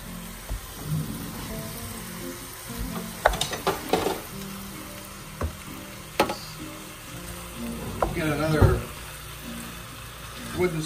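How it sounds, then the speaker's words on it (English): Three pounds of ground beef frying with garlic and onions, worked with a wooden spatula: scattered scrapes and clacks over a low background sizzle, with a busier stretch of stirring near the end. "we're gonna add our ground beef, 3 pounds of it, to our mixture of garlic and onions"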